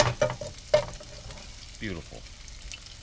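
Chopped garlic dropped into a hot pan for linguine with clam sauce, a soft sizzle and frying hiss under a few clattering utensil hits, with brief speech nearby.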